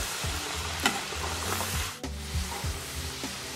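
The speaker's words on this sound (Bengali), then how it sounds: "আলু ফ্রাই করবো দুই মিনিটের মতো একটু ভেজে নিচ্ছি" Potato sticks for French fries fry in hot oil, giving a steady close sizzle with occasional stirring scrapes and clinks and no talking.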